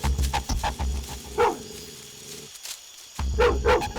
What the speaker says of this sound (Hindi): और वो भी मुझे ही देखकर किस तरह से भौंक रहा है।